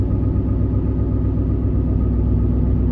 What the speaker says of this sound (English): So now once you get it idling